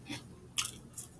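A person bites into and chews hot fries snack, giving a few short crunchy bites, close up and fairly quiet, with no talking.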